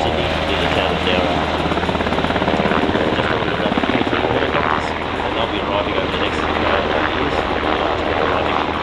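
A Royal Australian Navy MH-60R Seahawk helicopter flies a display at the Australian International Airshow, its rotor beating in a loud, steady rhythmic thump with a turbine whine. A commentator talks over it throughout.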